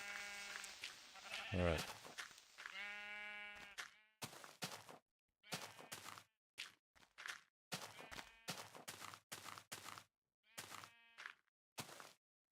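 Sheep in a video game bleat in a few drawn-out, wavering calls near the start. Brief clicky bursts of other game sounds follow, separated by silences, and one short spoken word breaks in.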